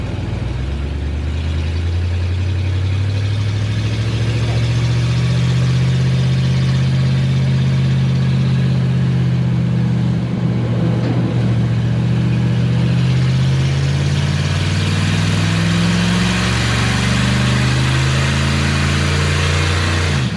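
A 1955 Chrysler with a 301 Spitfire early Hemi V8 pulls away under load, its engine rising in pitch through a long run before a manual shift drops the revs and it climbs again, loud and close, no voices.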